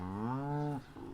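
A cow in a Kazakh village moos once with a long, rising, tonal call from close by, before being led out with her calf to pasture; a softer rustle follows.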